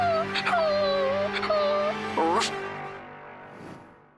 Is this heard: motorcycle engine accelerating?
no